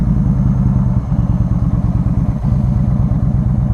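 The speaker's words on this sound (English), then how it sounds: "we press the starter button. Alright, so the bike is on." A 2015 Yamaha V Star 1300 Deluxe cruiser idling just after starting, its loud, close V-twin engine putting out a steady, deep, lumpy throb throughout.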